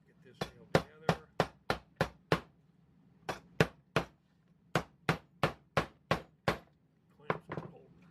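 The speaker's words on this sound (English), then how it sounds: "And I will get this nailed together." Hammer blows drive nails into a wooden aquarium light fixture, about sixteen sharp, evenly spaced strikes in quick bursts with a brief pause midway, close and loud, with no talking.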